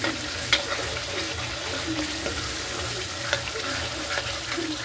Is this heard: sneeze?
no